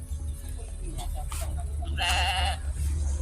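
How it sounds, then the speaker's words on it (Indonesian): Goats bleat in a rural Indonesian village, a clear wavering call near the middle standing out over steady background noise, with a few fainter bleats and chatter around it. "Kambing."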